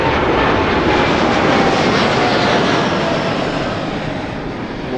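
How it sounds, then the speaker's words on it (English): An Air Canada Boeing 787 jet in icy blue livery passes at Toronto Pearson airport, its loud, steady engine roar filling the air and easing slightly toward the end, with no voices. "that's a 787 to Sao Paulo"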